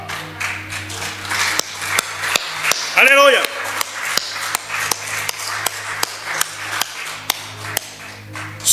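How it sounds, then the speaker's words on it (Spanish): A church congregation claps for the Lord in a steady, rhythmic beat, sharp and evenly spaced, while a voice calls out briefly partway through. "Dame un aplauso al Señor."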